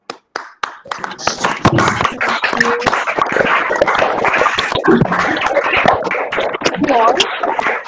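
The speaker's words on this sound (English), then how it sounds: "let's just give a big round of applause to Anupama" Audience applauding a speaker at an annual lecture, starting with a few scattered claps that swell into a close, uneven patter of hands with voices mixed in.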